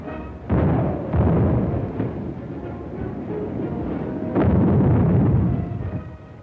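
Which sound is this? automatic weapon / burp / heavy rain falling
automatic weapon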